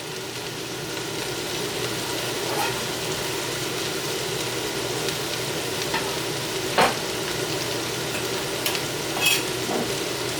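Four garlic cloves dropped into a hot pot for a Cajun pot roast stew, giving a steady moderate sizzle with a few clinks and scrapes of a utensil, no talking.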